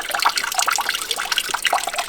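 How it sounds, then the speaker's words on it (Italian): Water from a blessed spring fountain on a mountain trail trickles and splashes continuously nearby, a bright, uneven dribbling with no voices. "qui troviamo subito una fonte d'acqua e addirittura è benedetta"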